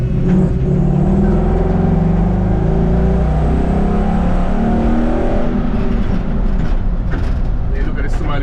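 A 1960 Ford F100 pickup fitted with a Mustang engine swap rumbles and revs nearby, a loud, steady low-pitched engine drone that shifts in pitch over several seconds, with someone talking over it.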